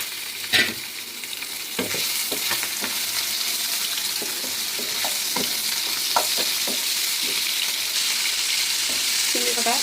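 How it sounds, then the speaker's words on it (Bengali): Shrimp and chillies fry in hot oil in a wok: a steady bright sizzle continues under repeated clicks and scrapes from a stirring utensil, with no talking. "এবারে চিংড়ি কটা ভেজে নেব।"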